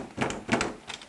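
A servo-driven, USB-authenticated deadbolt throws its bolt to lock a closed door, making three short mechanical clunks and whirs about a third of a second apart, close and fairly quiet.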